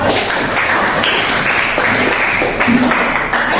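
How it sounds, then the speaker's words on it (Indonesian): A junior high school class in Babelan claps for classmates who answered correctly, a short burst of dense, close clapping that stays even and loud for the full stretch. "Kita tepuk tangan yang jawabnya C"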